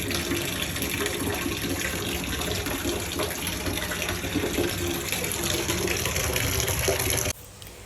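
Hotel shower running in a bathroom, a steady loud gush of water spraying and splashing without pause before cutting off near the end.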